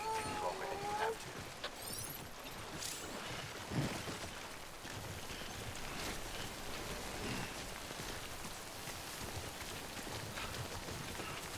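Steady rain (Timefall) from the video game Death Stranding patters continuously on surfaces, a constant hiss with a few louder drops, while a voice speaks faintly beneath it.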